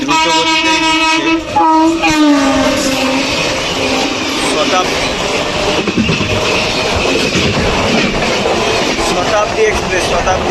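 A Shatabdi Express train rushes at speed through Nalpur station: a loud horn blares at first, then a steady heavy roar of wheels and carriages rumbles on close by, with people talking over it.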